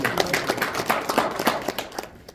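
Brief applause at a Korean policy forum on building a Taekwondo culture park. The claps are fairly close and distinct, then fade out after about two seconds.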